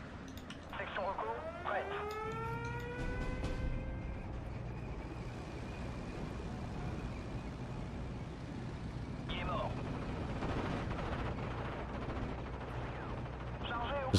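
Strafing gunfire from the Steel Division: Normandy 44 wartime strategy game rumbles as a dense, continuous bed of distant shooting and battle noise, with whistling shell-like sweeps near the start and a brief burst around nine seconds.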